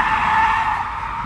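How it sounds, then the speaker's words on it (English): Chrysler 300 drifting on a track sends out a loud, sustained tire squeal that holds steady and close, under the hum of the car, with no voices. "we got the Chrysler 300 doing an absolute monster of a drift"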